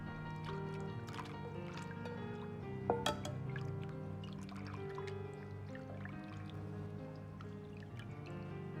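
Raw pork liver is washed in water, with sloshing, squishing and dripping as it is stirred and handled. A steady wet background carries a couple of sharper splashes around the middle.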